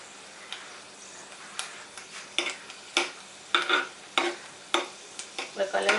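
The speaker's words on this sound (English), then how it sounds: "I need to stir them till they are golden brown." Peanuts being stirred and fried in a pan for poha upma, with a steady low sizzle beneath repeated sharp scraping and clinking strokes of the spoon against the pan, close and fairly loud.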